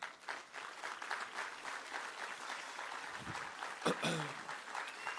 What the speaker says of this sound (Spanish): Por favor, le pido un aplauso a Pastor Pichi